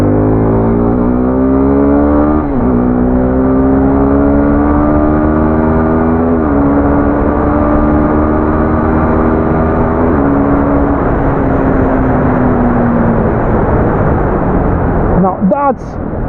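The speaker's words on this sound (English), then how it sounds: "that's a 250cc performance, and that's a really nice exhaust note as well." Suzuki Gixxer 250 motorcycle with a 250cc engine, its exhaust note rising and dropping through gear shifts while ridden through a corner, loud and close with steady wind roar, easing off near the end.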